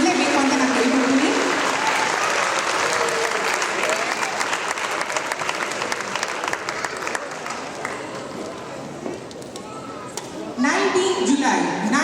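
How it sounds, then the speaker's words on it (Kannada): Audience applause for the cast of the Kannada stage play Bettada Hoovu at a Melbourne festival event, a dense sustained clapping from a large crowd that fills the whole stretch, with a fresh louder burst near the end. "ನಮ್ಮ ಬೆಟ್ಟದ ಹೂವು ನಾಟಕದ ಎಲ್ಲ ಪಾತ್ರಗಳಿಗೆ ಸ್ವಲ್ಪ ಜೋರಾದ ಚಪ್ಪಾಳೆಯಿಂದ ನೀವು ಕೊಡಲೇಬೇಕು ಅಂತ ನಾನು ಕೇಳ್ಕೊಳ್ತೀನಿ"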